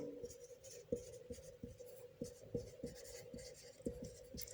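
Pen writing on paper during a class 7 maths lesson on linear equations, a run of close, scratchy strokes with short taps and pauses between words, no voice over it.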